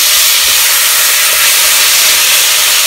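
Finely chopped onions frying in a pan while being stirred until brown, a loud, continuous sizzling hiss that holds steady and close throughout, with no talking.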